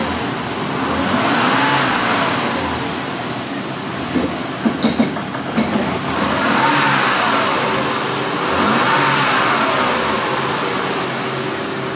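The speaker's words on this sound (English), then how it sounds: "what we definitely heard were significant ignition misfires" A Mercedes 300SL M103 engine with significant ignition misfires drones steadily and loudly up close, its pitch swelling and falling in slow waves, with a brief cluster of sharp clicks in the middle.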